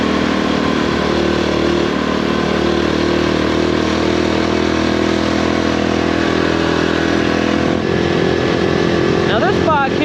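A Honda Trail 125 motorcycle is ridden toward town, its small engine droning loud and steady up close with wind rumble, shifting slightly in pitch near the end, while a voice talks over it.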